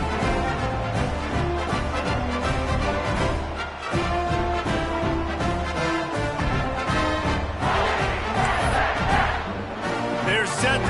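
Loud, continuous roar of a college football stadium crowd at a West Virginia Mountaineers game, cheering after a touchdown with massed shouting and a rhythmic chant-like swell that builds toward the end.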